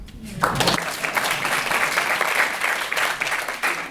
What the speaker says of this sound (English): I can get a hand clap.